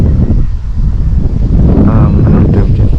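Strong gusty wind at a campsite buffets the microphone with a loud, constant roar and rumble, steady throughout with no voices.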